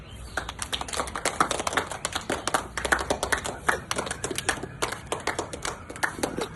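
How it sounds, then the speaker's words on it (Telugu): A group of children claps at a gymnastics demonstration, a busy, irregular patter of many quick hand claps, fairly close and continuous throughout. "క్లాప్స్."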